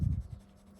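A Leonardo MZG fountain pen with a titanium nib scratches briefly across paper in a short, close stroke that fades into quiet.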